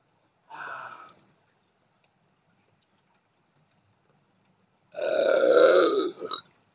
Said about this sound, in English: I just burped up some weed smoke.